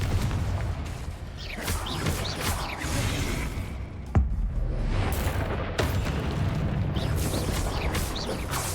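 Repeated Confringo blasting spells in Hogwarts Legacy: a dense run of booming explosive bursts and whooshing casts, one sharp crack standing out, loud and continuous over a busy combat soundscape.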